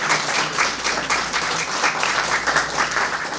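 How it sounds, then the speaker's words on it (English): An audience at a public library chef cooking demonstration applauds steadily for a few seconds, many hands clapping together in a dense, even wash without talk. "Let's give a big round of applause."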